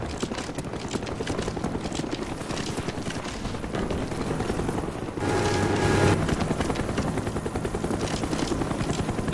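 A helicopter in a first-person shooter video game gives a continuous, fast rotor thump under the game's ambience, swelling louder partway through with a burst of other game noise, and no speech over it.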